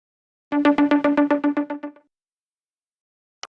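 The iPhone Cosmic ringtone plays as a quick run of about a dozen evenly pulsed synthetic tones that fade and stop, followed by silence and a tiny click.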